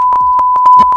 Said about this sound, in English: oh, we're gonna bleep it?